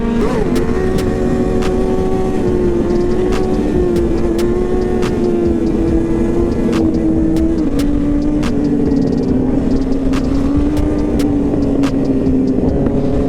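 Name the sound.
sport bike engine during wheelies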